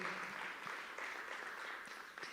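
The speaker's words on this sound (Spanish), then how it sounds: "dale ese aplauso al Señor, gloria a Dios" A church congregation applauds, a faint, even wash of many hands clapping at once that carries steadily through the short stretch.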